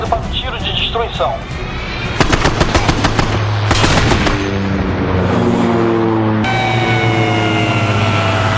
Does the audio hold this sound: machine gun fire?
yes